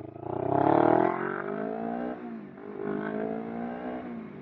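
A Kawasaki Ninja 250R engine hums steadily while riding at night, rising as it revs for a moment and then settling into a smooth, continuous drone with a gentle dip partway through.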